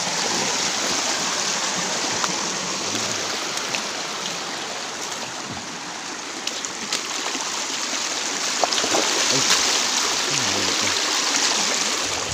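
Shallow river in the mountains of Antique province rushes and gurgles in a steady broadband wash, close and continuous, with faint splashes as someone wades through the middle of it.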